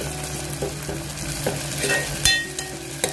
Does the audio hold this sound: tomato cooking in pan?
yes